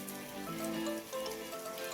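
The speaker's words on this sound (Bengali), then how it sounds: "অনেক মানে ভালোই জোরে বৃষ্টি পড়ছে এখন" Steady rainfall patters down continuously, a dense wash of drops striking surfaces nearby, fairly loud and even throughout.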